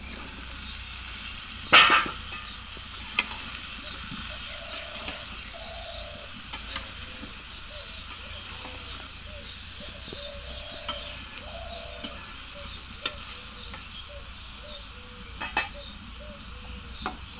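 Spiced curry being sautéed in a pan, with a continuous low sizzle and repeated soft scrapes and taps of a spoon stirring, plus one sharper clank early on, no talking.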